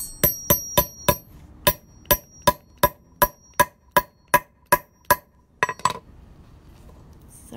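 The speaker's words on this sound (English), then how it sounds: "Then I put my flare tool back on, and then just give it a couple good more whacks." A hammer strikes a metal flare tool to set a grommet on fabric, about fourteen sharp, ringing metallic whacks in a steady rhythm, then a quick double hit and a brief clatter, loud and close with no talking.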